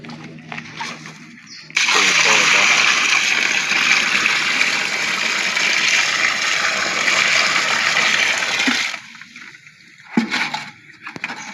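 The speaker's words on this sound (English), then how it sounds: "after that we'll now pour water" Water poured into a lightning arrester earthing pit, a loud continuous gushing splash lasting about seven seconds before stopping, with a few brief knocks and splashes afterward.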